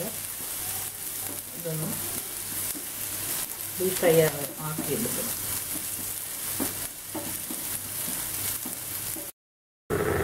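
Sliced dried red chillies and onion deep fry in hot oil for kozhuva (anchovy) dry fry, a continuous bubbling sizzle with occasional stirring, a brief voice speaking over it midway, then a short silent gap.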